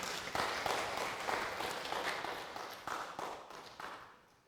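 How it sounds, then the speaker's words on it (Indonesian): A church congregation at a Sunday worship service claps for the performers, steady broadband applause with distinct sharp claps, moderately loud and fading out at the end. "Kasih tepuk tangan dulu sama mereka."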